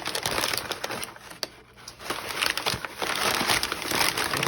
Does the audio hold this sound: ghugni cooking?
no